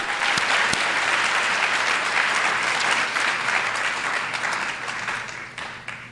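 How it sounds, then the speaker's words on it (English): Another round of audience applause for an award recipient at a high school Black History Month celebration, thick steady clapping from a large crowd that stays loud throughout and only starts tapering in the final second. "We give another round of applause for Mr."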